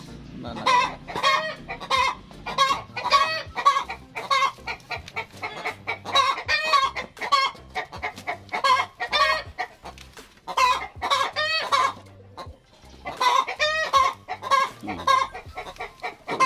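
Native heritage chickens, including a mother hen, cluck steadily and busily nearby, a dense run of overlapping calls with a few short pauses, no talking.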